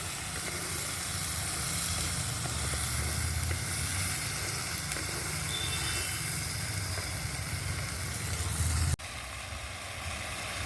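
Vegetables frying in hot oil for an Ayurvedic ash gourd rotipachadi chutney, a steady sizzling hiss that holds at one level throughout and breaks off briefly near the end.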